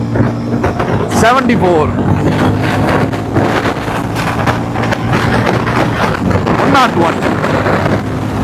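A 400cc cruiser motorcycle accelerates, its exhaust giving a steady low engine drone that is heavily masked by strong wind buffeting on the microphone, while a rider talks over it.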